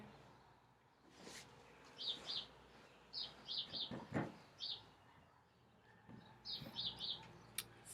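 Small birds chirp in short, bright bursts of two or three notes, repeating across a quiet outdoor background with occasional soft thumps.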